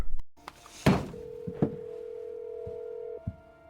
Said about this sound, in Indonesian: Keesokan harinya, Yongsuk menelepon Suyun lagi, tetapi tidak ada balasan dan itu membuat dia ngambek.